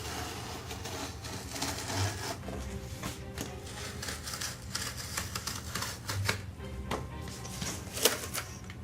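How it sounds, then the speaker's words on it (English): A knife slices along a crease on the back of a cardboard sheet for a boarded-up Halloween window decoration, making faint, close, irregular scratchy clicks and short scraping bursts that run throughout in quiet surroundings. "go onto the back side and cut where that crease is"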